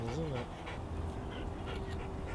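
Weimaraner dog panting steadily at close range, a soft continuous breathy rhythm with a faint whine at the start, recorded outdoors under low background noise.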